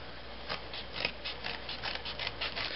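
Scissors cut through chipboard for a miniature bathtub, giving a quiet, steady series of close, crisp snips.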